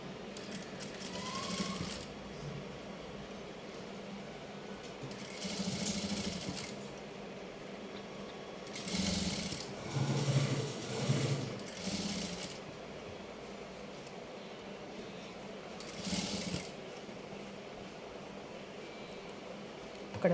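A sewing machine stitches a long frock in short separate bursts of rapid whirring, with quieter pauses between runs and faint background noise, no talking.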